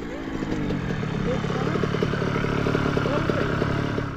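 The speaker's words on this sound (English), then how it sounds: "Oh, I love riding dirt bikes with you boys." A dirt bike engine running on a trail ride, a steady mid-pitched droning rumble with faint clatter, fairly close and even throughout, without audible talk.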